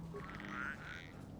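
Frogs croak in the swamp of the Star Wars: Knights of the Old Republic video game, a faint, brief cluster of low croaks over quiet game ambience.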